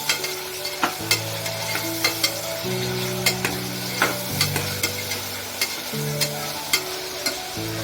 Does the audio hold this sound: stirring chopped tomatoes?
yes